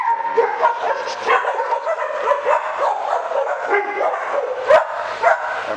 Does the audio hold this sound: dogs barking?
yes